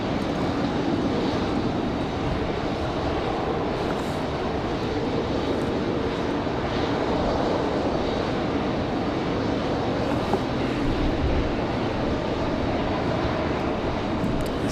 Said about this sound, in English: This one here going to be the last one, A319. Southwest 1338, contact departure